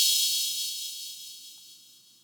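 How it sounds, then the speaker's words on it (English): A bright, hissy synthesized cymbal crash made with Ableton Live's Operator, ringing out and slowly fading over a couple of seconds, heard alone. "is more of a cymbal sound"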